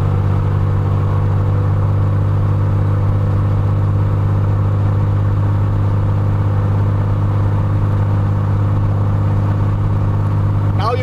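An aircraft propeller engine running at around 2000 RPM: a loud, steady, close droning hum with a constant low tone and no breaks throughout.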